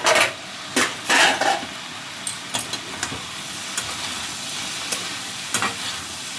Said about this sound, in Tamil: இப்போ ஒரு கிண்டு திரும்ப வேக எவ்வளோ வெந்துருக்குன்னு பார்க்கணும்